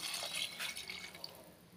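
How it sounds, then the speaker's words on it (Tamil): Water poured into mutton pieces in a cooking pot for a hotel-style mutton gravy, a close, splashy trickle with dripping that fades toward the end, with no talk. "இப்போ மட்டன் வேகிற அளவுக்கு தண்ணி சேர்த்துக்கலாம்."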